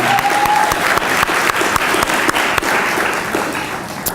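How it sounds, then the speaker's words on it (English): A crowd applauds steadily, loud and sustained, with many hands clapping at once and no voices standing out. "Let's show a round of applause for Pastor Lee."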